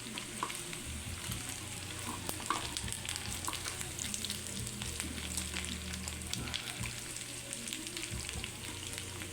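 Pork humba with whole black peppercorns being stirred in a hot pan, a steady close sizzle and frying crackle with scraping stir sounds throughout, no talking.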